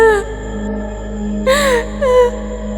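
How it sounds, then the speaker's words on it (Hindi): A girl's eerie, wavering crying in a Hindi horror cartoon, two drawn-out sobbing wails rising over a sustained low ambient drone and a thin high tone, lonely and echoing at night. "इतनी रात को इस सुनसान जगह पर कौन रो रहा है?"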